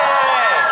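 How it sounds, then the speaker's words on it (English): Convention audience at a voice actor anime panel cheering and whooping, a brief, loud burst of many voices blended together. "Sounds like an energetic crowd."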